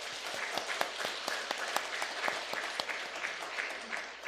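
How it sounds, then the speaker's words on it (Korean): A church congregation claps in celebration after a baptism during a Sunday service, a moderate wash of applause with distinct individual claps standing out, fairly quiet and uninterrupted by talk. "우리 축하의 박수 한번 보내주시기 바랍니다"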